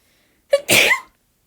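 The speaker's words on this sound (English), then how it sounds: "I had to sneeze." A single sharp human sneeze with a quick inhale before the burst, close and loud against an otherwise silent background, with no talking.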